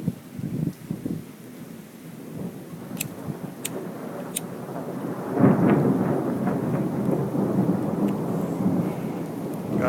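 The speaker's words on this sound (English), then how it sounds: "the thunder part of the thunderstorm has not stopped. You can just constantly hear it." Thunder rolls through an Italian thunderstorm, low booming rumbles that swell and linger, with a loud, sustained peal from the middle onward and a few faint high clicks early, no talk.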